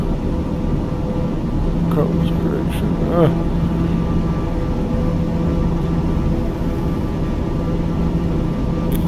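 Black Square TBM 850 turboprop in Microsoft Flight Simulator, a steady cockpit engine drone and hum running under a brief radio voice and a couple of short tones.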